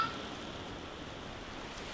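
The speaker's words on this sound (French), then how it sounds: "Cette pluie ne va pas nous aider." Steady, even rain hiss from The Last of Us Remastered, a soft continuous wash of falling drops with no talk, at a constant moderate level throughout.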